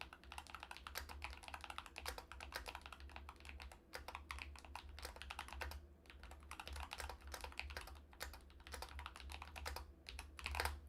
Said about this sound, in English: I had to smack my keys really quick.